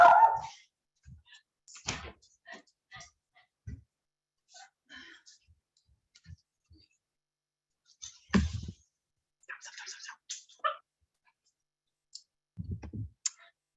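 A pet dog barks a few times indoors, short sharp yaps scattered across a quiet stretch, with a person talking intermittently between them.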